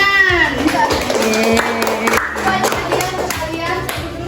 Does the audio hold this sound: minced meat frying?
no